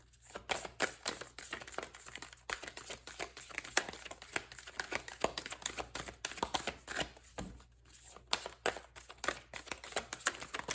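Tarot cards are shuffled by hand in a quiet room, a rapid series of close crisp riffles and slaps in uneven bursts, with a short pause partway through before the shuffling resumes.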